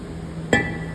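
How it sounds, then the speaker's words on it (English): A single close metallic clank as a hammer strikes the hat of a brake rotor on a 2017-2020 Ford F-150 4x4 front end, ringing briefly over a steady shop hum. "You don't want to hit the face of the rotor, you just want to hit the hat of the rotor right here."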